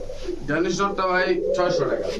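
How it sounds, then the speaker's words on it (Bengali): A Gorra pigeon coos nearby in soft, rolling, throaty calls at a pigeon market, with people talking over and around it. "গররা যে নটটা ডাকাডাকি করতেছে"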